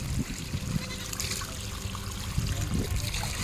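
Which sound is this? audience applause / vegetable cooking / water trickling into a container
water trickling into a container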